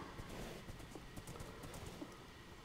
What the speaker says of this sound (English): I'll take my lovely little horse and ride off into the sunset